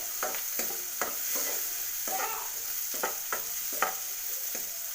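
Onions frying with turmeric for a bitter gourd gojju, a steady sizzle broken by repeated scraping stir strokes of a spoon in the pan, close and moderately loud, with no talking.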